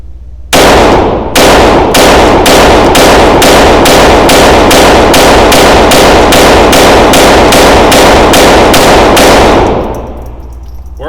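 Rapid, evenly spaced shots from a Sig P322 pistol firing Federal Auto Match rounds, a long loud string of about twenty reports with a brief pause near the start, ending in ringing quiet.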